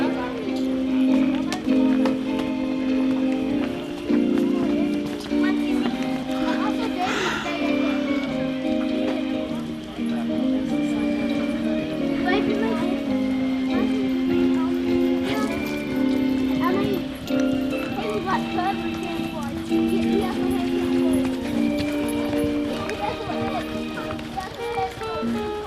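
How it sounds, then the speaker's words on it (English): Horses moving in a fast rack gait on a show ring rail, a steady patter of hoofbeats under continuous music and an announcer's voice, moderately distant. "Put them horses up in a fast rack for us tonight."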